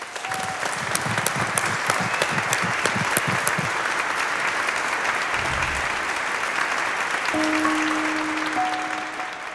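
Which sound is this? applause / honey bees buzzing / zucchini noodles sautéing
applause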